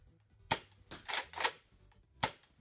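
Toy cap gun fired along a 30-foot basement range: four sharp snapping pops, spaced irregularly, close and fairly loud against a quiet room.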